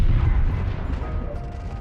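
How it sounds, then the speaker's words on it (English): A distant explosion in the video game Goddess of Victory: NIKKE rolls out as a low, booming rumble that slowly fades, heard alone without talk. "Loud explosion echoes in the distance."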